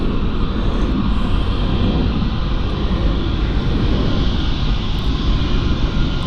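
Airbus A320neo jet engines at Frankfurt Airport give off a loud, steady roar with a broad rushing hiss that holds evenly throughout, no voices over it.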